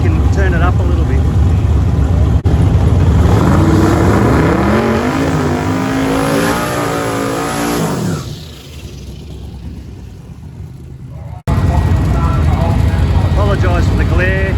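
Holden drag racing cars launch at the 2023 Holden Nationals: a loud engine roar climbs in pitch and fades into the distance, then another engine bursts in abruptly, with voices underneath.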